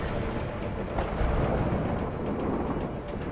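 Thunder in the game A Way Out rolls as a continuous low rumble with a slight swell near the middle, dense and moderately loud throughout the short stretch, with no talking over it.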